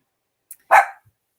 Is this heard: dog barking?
yes